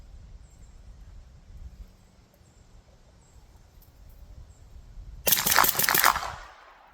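A rapid string of rifle shots fired through a Rugged Alaskan 360 suppressor at a steel target over a dirt pile, bursting out loudly after several seconds of quiet outdoor background and ending abruptly.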